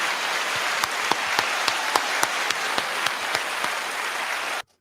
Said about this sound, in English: I didn't want to be the only one clapping.